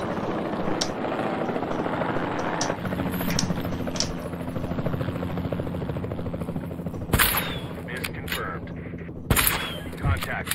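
Helicopter rotor drone and scattered gunfire as a ranger shoots at dinosaurs in Jurassic World Evolution 2, a steady mechanical hum with a few sharp bursts near the end, mixed under a speaking voice.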